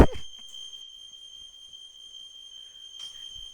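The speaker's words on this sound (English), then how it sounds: "Yeah, this fire alarm is really sensitive." Smoke alarm set off while a steak cooks indoors, a steady high electronic tone sounding continuously and fairly loud, with a brief thump at the start and faint background noise beneath.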